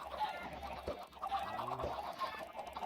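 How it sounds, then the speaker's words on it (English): A chicken clucking in the Minecraft video game, short faint game clucks over a steady low background hum. "Did it spawn a chicken?"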